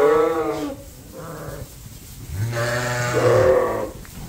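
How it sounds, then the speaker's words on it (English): Several sheep bleat loudly and close by, with long wavering calls overlapping one another and brief pauses between them, on a farm where open ewes are being moved. "So, these are the open sheep."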